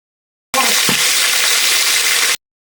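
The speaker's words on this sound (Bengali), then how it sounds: "এখন ভেজে নিচ্ছি।" Chicken pieces coated in food colouring and lemon juice sizzle in hot oil in a pressure cooker, a steady loud frying hiss lasting about two seconds with a brief clatter near the start.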